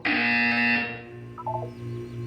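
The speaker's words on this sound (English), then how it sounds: "When you hear the buzzer, look up at the ceiling" A buzzer from the video game Portal 2 gives a single loud, harsh tonal blare lasting under a second, then cuts out. Faint game tones and sounds follow, with no talking.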